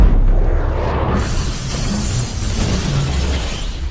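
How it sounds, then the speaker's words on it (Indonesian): A missile strike destroying an entire city in a film, heard as a loud, sustained roar and rumble of explosion that fills the whole stretch without a break. "sebuah rudal N2 pun meluncur di atas Recon City dan menghancurkan seluruh kota"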